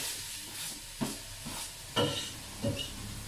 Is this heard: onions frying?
yes